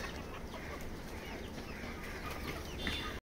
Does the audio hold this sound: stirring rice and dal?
no